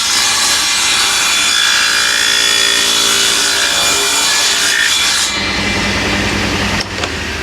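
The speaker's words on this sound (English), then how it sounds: "Well, you can probably hear that cutting, or when it started hitting the wood." Saw cutting a slot into the corner of a wooden mitre frame, a continuous loud rasping buzz that stays steady, then shifts to a lower, rougher tone near the end as the blade bites into the wood.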